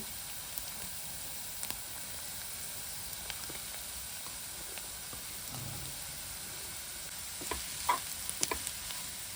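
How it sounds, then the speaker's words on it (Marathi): Jackfruit mixture going into softened frying onions for a Marathi-style jackfruit vegetable with sesame powder, with a low steady sizzle and scattered soft stirring scrapes, a few louder clatters near the end. "मी आता हे जे फणसाचं मिश्रण केलेलं होतं ते घालून घेते"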